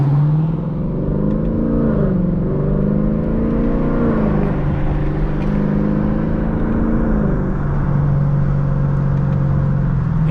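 A Lexus LC 500 engine hums and rumbles steadily from inside the cabin in sport mode, its pitch rising and shifting a few times as the car accelerates.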